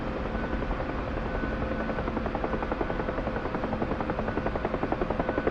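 A Kiowa helicopter in a flight video game thumps steadily with fast, even rotor chop over a dense turbine drone, loud and continuous throughout with no voices.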